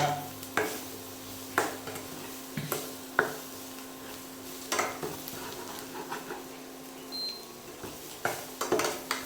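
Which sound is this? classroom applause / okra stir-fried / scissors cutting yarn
okra stir-fried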